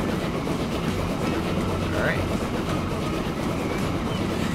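A train in a video game rolls up through a forest on a hillside, a steady loud rumble with faint clatter throughout, and a voice speaks briefly over it.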